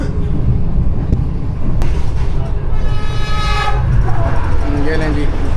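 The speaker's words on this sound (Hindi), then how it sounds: "ये लें जी, 48 डाउन जा रही है रहमान बाबा एक्सप्रेस" The Rehman Baba Express, 48 Down, rushes past on the Karachi–Lahore line with a loud, steady roar of wheels and a horn blast, heard close from a moving train while a person talks over it.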